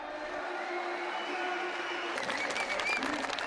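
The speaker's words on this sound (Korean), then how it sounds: "마치 실제 축구를 보는 듯한 플레이에 관중들은 모두 환호했다" A crowd cheers and applauds at a WCG 2006 European championship video game match, steady broad noise that swells with sharper clapping bursts toward the end.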